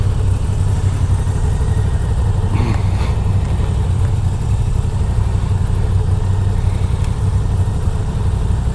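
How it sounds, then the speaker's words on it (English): A Moto Guzzi V7 Stone motorcycle engine idles with a steady, low, throbbing rumble at close range, with one or two brief mechanical clicks partway through and no talking. "Riding the Moto Guzzi V7."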